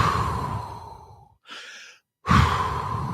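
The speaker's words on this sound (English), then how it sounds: "practice deep breathing while you exercise" Slow, deep breathing during exercise: a long, loud exhale fading away, a short quieter breath in after a pause, then another strong, close exhale, with no talking.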